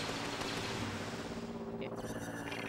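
Blaster fire in the LEGO Star Wars video game, a dense rapid burst of shooting effects layered with game noise, loud and continuous for a few seconds.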